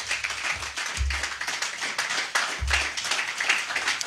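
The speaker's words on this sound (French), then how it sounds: "Est-ce que vous pouvez acclamer pour vous-même d'abord?" Church audience clapping together in a worship service, a dense continuous patter of hands that swells and falls over four seconds with a few louder thumps, heard up close.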